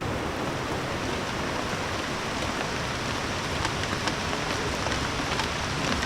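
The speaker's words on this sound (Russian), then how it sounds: "Однако ночью опять пошел дождь." Steady night rain falling in the Bolivian Amazon, a dense, even hiss of drops on surfaces that holds at a constant level with no voices.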